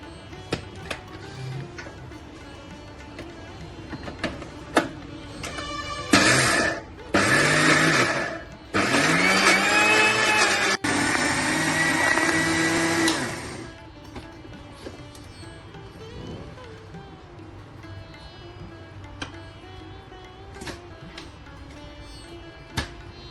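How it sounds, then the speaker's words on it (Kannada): A wet grinder grinds soaked urad dal into smooth batter for Mangaluru moode, with a loud churning whir that starts and stops in bursts midway over a quieter background hum. "ಈ ಉದ್ದಿನ ಕಾಳನ್ನು ನೈಸ್ ಆಗಿ ಗ್ರೈಂಡ್ ಮಾಡಬೇಕು"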